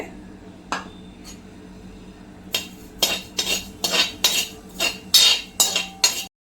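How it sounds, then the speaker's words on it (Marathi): Split mustard seed dal roasting in a pan for mango pickle masala, heard as a run of close, sharp metallic scrapes and clinks of a spoon stirring against the pan, coming faster and louder in the second half with no talking. "आता ही राईची डाळ मी भाजून घेते"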